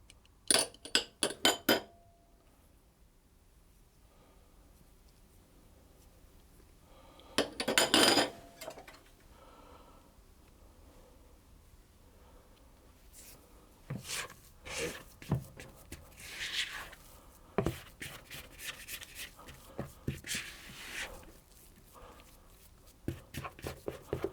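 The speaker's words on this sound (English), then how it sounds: "I'm going to just scrape that together using my spatula" Spatula scraping cheese and cashew biscuit dough together in a bowl: scattered clinks and scrapes in short bursts with quiet gaps, close and fairly crisp, with no talking.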